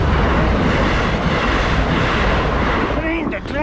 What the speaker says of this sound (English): Oh, train's here.